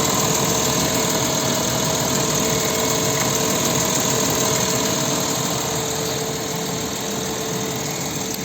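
A 2015 VW Touareg 3.0 TDI diesel engine idles steadily with a constant rumbling drone and faint clatter throughout, close up and loud, no voices.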